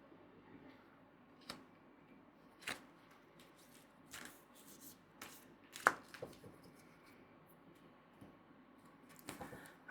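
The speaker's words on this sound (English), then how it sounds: "we'll give these a shuffle" Oracle and tarot cards being shuffled by hand, scattered soft riffles and taps at irregular intervals, quiet and close, with a few sharper snaps in between.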